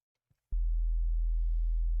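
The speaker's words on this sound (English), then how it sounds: "Just pretty standard sub bass." A clean, fully mono sine sub-bass synthesizer tone switches on abruptly after a faint tick and holds steady and deep, alone and unwavering, until it cuts off.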